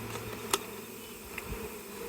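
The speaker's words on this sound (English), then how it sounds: "The bees are stuck in here, our sample of bees in here." Honey bees trapped inside a lidded sample cup for a varroa mite check, a faint steady buzzing hum with a couple of small taps against the container.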